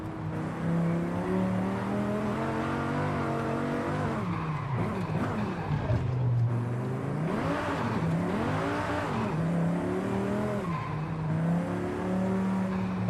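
A car engine in the racing game Forza Horizon 5 revs hard and continuously, rising and falling in pitch through gear changes, with tire squeal mixed in, loud and close.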